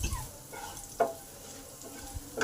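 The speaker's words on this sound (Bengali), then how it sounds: "এগুলোকে দু মিনিট ধরে ভালো করে ভেজে নেবো" Green chillies and whole spices frying in oil in a pan, a soft continuous sizzle broken by a few sharp stirring clicks, fairly quiet and close.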